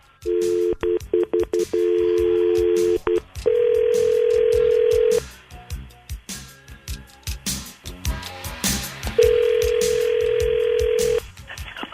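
Telephone keypad tones beep in quick bursts as a call is dialed, followed by long steady ringback tones with short gaps, clear and close, with faint voices murmuring between them.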